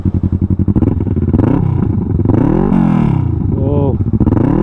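A Kawasaki Vulcan 650S motorcycle engine idles with a steady, rhythmic parallel-twin thump, then blips and revs a couple of times while someone talks over it close by.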